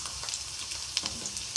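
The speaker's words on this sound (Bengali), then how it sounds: "প্রথমে আলুটা আমি একটু ভেজে নেব।" Potato pieces frying in hot oil in a pan, a continuous close bright sizzle with small pops and crackles throughout.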